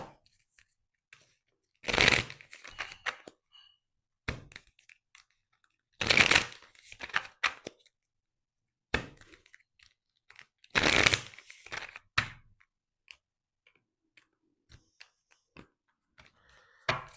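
A deck of tarot bonus cards is shuffled in close, crisp riffling bursts that come in four or five separate rounds, with quiet pauses between them.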